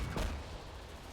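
Gunfire in the video game Silica: one heavy booming shot near the start, followed by a lingering rumbling tail that fades slowly, fairly loud and alone.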